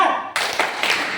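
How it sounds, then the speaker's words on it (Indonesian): A class of schoolchildren performs the rhythmic 'tepuk semangat' spirit clap during a lesson, with a few crisp, close hand claps landing in a quick pattern over a short burst. "Tepuk semangat dulu yuk."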